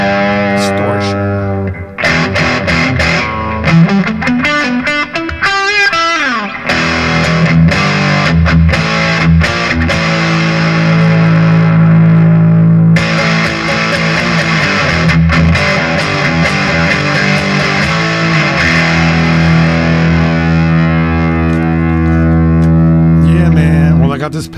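An electric guitar with a humbucker neck pickup plays through a ProCo Lil Rat distortion pedal, giving heavily distorted chords, bends and sustained notes in a continuous loud passage with brief pauses.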